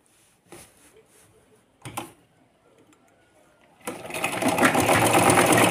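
Sewing machine stitching foam sheet for a small summer swing, a few brief starts and stops followed by a steady, close whirring run of needle strokes.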